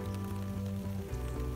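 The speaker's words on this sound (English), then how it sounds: "It's raining right now." Steady rain patters outdoors over a garden with a rain barrel, a soft continuous hiss with no distinct drops or voices.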